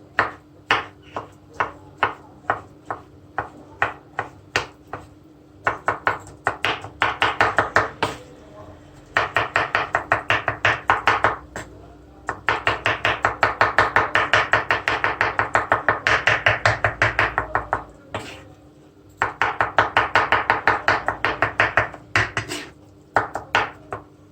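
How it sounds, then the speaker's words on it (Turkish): A knife chops roasted eggplant and roasted hot peppers into small pieces on a board, fast rhythmic close knocks in bursts with short pauses between runs, heard without talk. "Şöyle minik minik doğruyorum onları."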